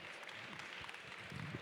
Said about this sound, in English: big applause for these beautiful two coffee professionals